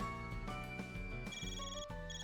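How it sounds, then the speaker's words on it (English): A phone call rings in The Legend of Heroes: Trails Through Daybreak II, a steady electronic ringtone with bright repeating tones playing continuously over game music, no voices. "Phone call."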